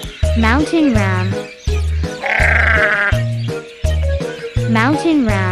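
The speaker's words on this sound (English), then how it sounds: "Mountain ram." A mountain ram bleats in repeated wavering calls over a rhythmic music bed in a children's animal-sounds cartoon, loud and near, with a brief bright squeal midway.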